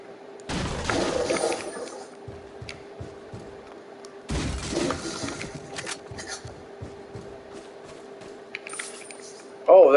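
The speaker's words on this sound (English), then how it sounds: "Explosion should have triggered you." Two sharp explosive bursts in Resident Evil 4 crack out about four seconds apart, each followed by a scatter of debris and rattling clatter over a low game hum, with a brief loud hit closing the stretch.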